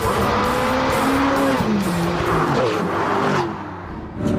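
A Ferrari supercar drives along a French gorge road, its engine note loud and close, rising and falling through gear changes before easing off near the end.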